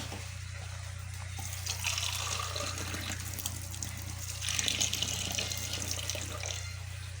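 Water runs steadily into a cooking pot of sardines, a continuous splashing pour with a low hum underneath and no talking.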